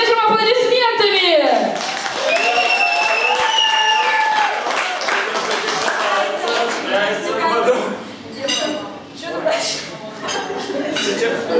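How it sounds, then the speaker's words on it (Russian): An audience claps along under a lively mix of talking and sung notes, with applause swelling in bursts and a few clinks in the background. "Все, поддержим аплодисментами!"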